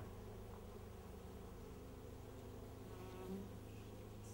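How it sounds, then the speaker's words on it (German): Honeybees on a hive comb during a winter inspection produce a steady, low humming buzz that holds evenly throughout, close and moderately quiet with no voices. "die Bienen, die hier auf dem Wabenschenkel oben sind, das sind dann Wächter"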